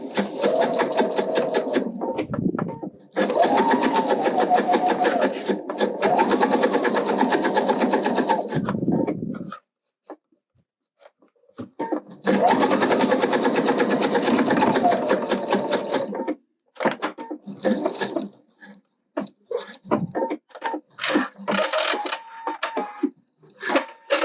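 Sewing machine stitching a backpack, with a backtack at the start and end, running in fast steady bursts that stop and restart. Short pauses carry clicks and handling noises.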